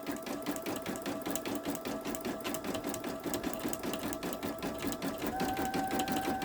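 A Babylock Esante embroidery machine stitches a sunflower design onto a towel, giving a steady, fast mechanical chatter with a faint whine that rises near the end, no voices.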